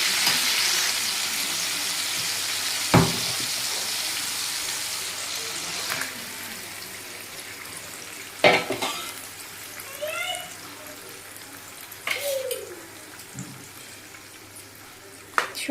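Marinated chicken pieces fry in a pan over a low gas flame, giving a steady sizzling hiss. Occasional sharp clinks and scrapes come from stirring and adding pieces, and brief faint vocal sounds appear now and then.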